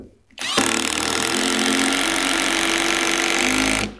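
A SKIL 12V PWRCore cordless driver drives a 3-inch drywall screw in one loud, continuous motor whine that lasts about three seconds, then stops abruptly.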